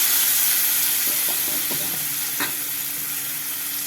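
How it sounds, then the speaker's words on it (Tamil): Fish pieces fry in hot oil, giving a loud, continuous close-up sizzle and hiss. A few light taps and crackles sound under it. "இப்போ நான் பொறிக்க ஆரம்பிக்கட்டுமா மீன் பொறிக்கிறதுக்கு எண்ணெய் ஊற்றி ரொம்பவே காஞ்சிருச்சு"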